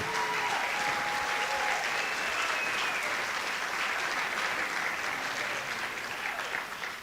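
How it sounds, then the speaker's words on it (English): Sustained audience applause at a school spring band concert fills the room steadily and fairly close, with a few faint whistles or cheers rising over the dense clapping before it begins to taper at the end. "Please keep your applause going"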